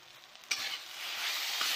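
Potatoes fry in a pan for a sour fish curry, a steady close sizzle that builds gradually, with a brief stirring scrape near the start.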